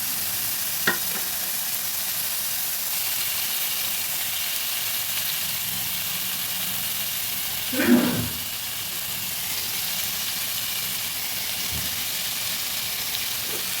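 A continuous sizzling hiss of frying in a pan, with a brief louder clatter midway as fried katla fish pieces are added to cooked tomatoes.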